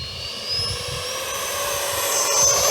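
An E-flite Viper 64mm electric ducted-fan RC jet takes off downwind, giving a loud, steady high-pitched whine that builds slightly as it goes, heard alone over faint low rumble.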